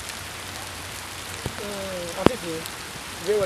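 Rain falls steadily on a surface outdoors, a soft constant hiss underneath, while voices talk over it.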